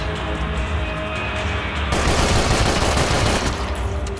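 Rapid gunfire in Max Payne 3 rattles out in a dense, loud stream, growing heavier and more sustained midway with no speech.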